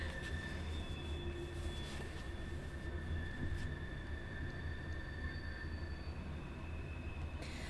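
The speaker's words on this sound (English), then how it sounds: "Train going by my house." A train rolls past a house, a long, fairly faint rumble of rail cars with a few thin wheel squeals and a steady low drone throughout.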